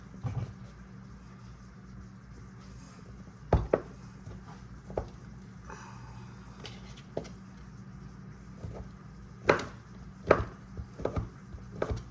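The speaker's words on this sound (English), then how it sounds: "I'll cube it into like long strips" Feta cheese cubed into long strips with a knife on a cutting board, scattered sharp chopping taps with several louder knocks amid quiet background.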